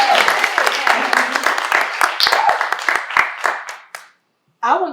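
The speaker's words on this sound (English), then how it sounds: "we need to clap" People clap together in a quick burst of sharp, close hand claps that thin out and stop, followed by a brief pause and then a voice speaking.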